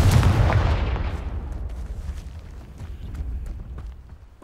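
The Confringo fire spell cast in Hogwarts Legacy: a single heavy, booming blast that rolls off into a long, fading rumble with scattered crackles, loud and close.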